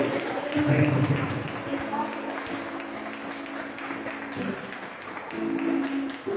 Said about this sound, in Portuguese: Aplauda o nome dele mais uma vez.